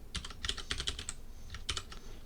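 Quiet clicking of keys on a computer keyboard, short bursts of typing separated by brief pauses, close and soft.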